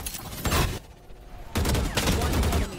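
Odin machine gun from Valorant firing in sustained bursts, with a short gap between them, loud and close under game noise and player talk.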